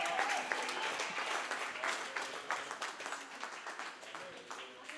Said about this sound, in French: If you believe it, clap your hands.